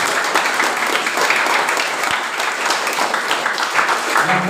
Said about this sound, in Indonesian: Tepuk tangan untuk sekolah kita.